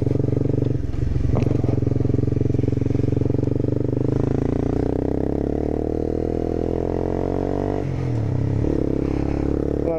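A Honda CBR 250 motorcycle engine drones steadily while ridden aggressively, loud and close, its pitch rising and falling as the rider shifts through the revs.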